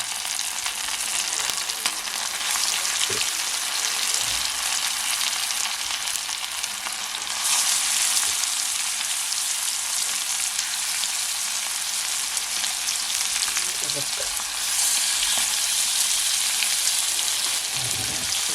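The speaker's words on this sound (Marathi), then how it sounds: "एक एक पीस फ्राय करून घ्यायचं" Dandavshi fish pieces frying one at a time in a hot pan, a steady loud sizzle and crackle holding throughout with faint occasional taps of a utensil.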